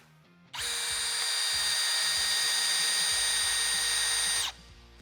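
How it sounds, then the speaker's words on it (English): A Milwaukee compact drill whines steadily at full speed for about four seconds while driving its bit into wood, loud and close, then cuts off abruptly. "So I've sunk the drill bit in as if it's bound up and locked up solid."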